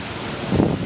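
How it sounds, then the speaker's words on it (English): Rain falling outdoors in Tucson on a windy day, a constant broad hiss with a gusty swell in the middle of the short stretch. "back in the rain."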